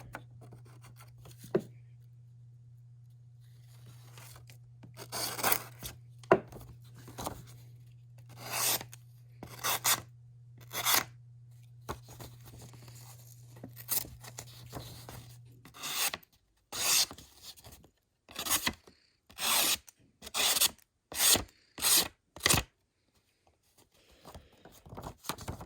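A CRKT Seismic knife slices through material in a cut test, a series of sharp rasping strokes, sparse at first, then quickening into a rapid run of close, crisp cuts, with a low steady hum under the first half.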